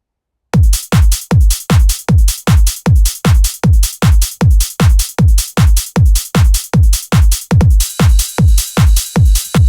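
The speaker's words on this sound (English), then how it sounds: "And there's a second part of the drums," The second part of a trance drum pattern: a driving four-on-the-floor kick with bright hats, roughly three hits per second, loud and unbroken, gaining a thin high shimmer near the end.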